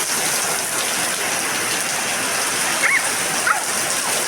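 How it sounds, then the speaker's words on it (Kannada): Heavy rain pours down in a dense, constant wash of noise, steady throughout with no pauses. "ಎಷ್ಟು ಮಳೆ ಅಂದರೆ ಯಾರೂ ಕೂಡ ಕಾಲು ಕಾಲು ಹೊರಗಡೆ ಇಡೋಕ್ಕಾಗದೇ ಇರೋಷ್ಟು ಮಳೆ"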